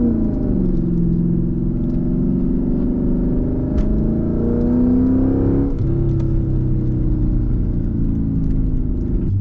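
Lexus IS F sedan with a V8 engine revving while driving, a steady loud rumble rising and falling in pitch through two throttle pulls, heard close from inside the car with no talking.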